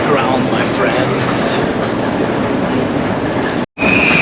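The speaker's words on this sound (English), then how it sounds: "It's like deep underground here, this train station." Deep underground train station with a train rumbling loudly and continuously, wheels clattering and a high squeal, a brief cut near the end.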